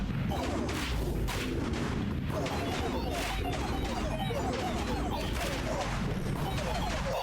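A poison trebuchet and a poison fire turret fire in the strategy game 9 Kings, producing a dense, unbroken barrage of crashing impacts and booming shots, loud and continuous throughout.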